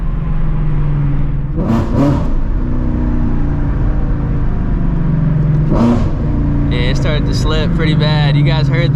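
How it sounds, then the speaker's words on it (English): A Shelby GT350 roars under hard acceleration with loud engine and exhaust drone and brief sharp pops from the exhaust, while people talk excitedly over it inside the car. "Nice little backfire."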